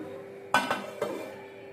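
A lid is set down over a pan of freshly mixed modak dough on a turned-off gas stove, giving a few close metallic clinks and clatters in quick succession.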